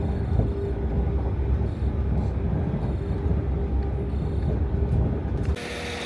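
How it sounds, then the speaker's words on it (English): A train pulls into Chirk station in Wales with a steady, close rumble and rhythmic mechanical clatter that eases off near the end. "That's my train."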